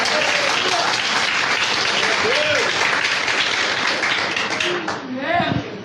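Church congregation breaking into loud, sustained applause during a sermon, dense clapping throughout with a few voices calling out over it before it starts to thin near the end.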